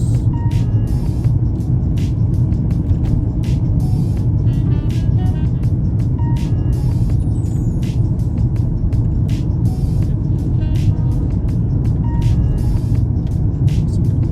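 Steady road noise from a Mercedes-Benz car being driven, a continuous low rumble of engine and tires heard from inside the cabin, with faint ticking clicks and no talking.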